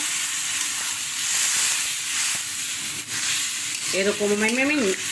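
Prawns and vegetable stems fry in a pan over high heat, a steady close sizzle and hiss, with a short voiced sound near the end.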